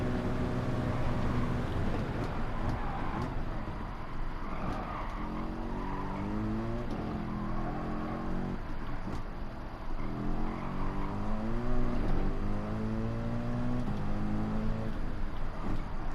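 Mercedes-AMG GT3 '16 race car in Gran Turismo 7 lapping the Nürburgring Nordschleife, a steady loud engine drone with repeated rising upshift sweeps and lifts, tyre scrub and squeal mixed in throughout, no talking.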